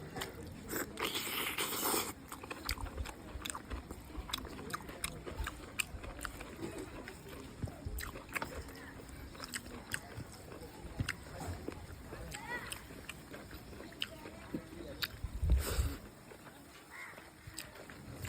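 Close, soft chewing and biting while eating a Sunday mutton curry meal, with irregular crunches and wet mouth sounds, mixed with low background murmur and scraping.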